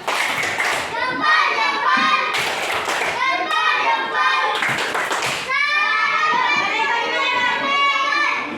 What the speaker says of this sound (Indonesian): Tepuk salut dulu untuk mereka.